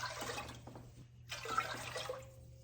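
Water poured into a container for kohlrabi pickling brine alongside white vinegar, a close splashing gush that breaks briefly then resumes, steady and alone without talk.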